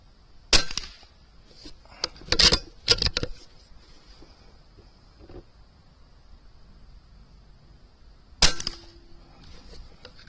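A BSA Super Ten air rifle fires a string of sharp, snappy cracks, several close together early on and another after a long pause, each short and moderately loud over a quiet room with no talking.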